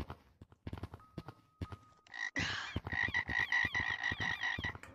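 Repeated frog croaks in the video game Gorilla Tag, a loud, steady run of rhythmic ribbits that starts midway after some clicks and tapping, with no talking over it.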